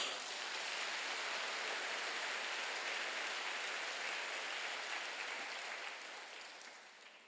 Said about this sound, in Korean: 박수 쳐봐요.